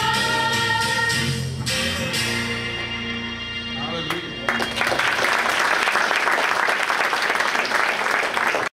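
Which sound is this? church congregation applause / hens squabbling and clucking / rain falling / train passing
church congregation applause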